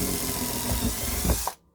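A power drill with a 2.5mm bit whirs steadily as it bores through model railway track, then cuts off abruptly near the end, leaving silence.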